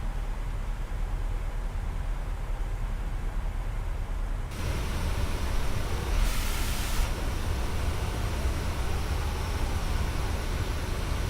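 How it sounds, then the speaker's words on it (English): Wind rushes steadily outside a PMDG 737-800 airliner during descent in Microsoft Flight Simulator 2020, a constant broadband hiss that shifts in tone partway through, with a brief brighter surge. "you can actually hear the wind on the outside of the airplane"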